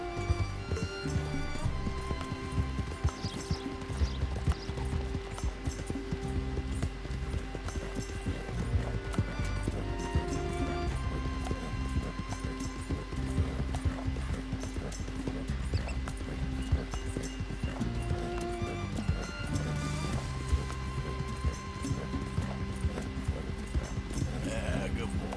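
Horse hooves galloping in Red Dead Redemption 2, a steady clip-clop rhythm running under game music throughout, with a brief whinny possible and voices talking over it at times.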